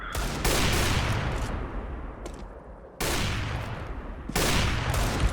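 Gunfire in the video game CS:GO, loud sustained bursts of rapid automatic shots in several volleys separated by brief dips.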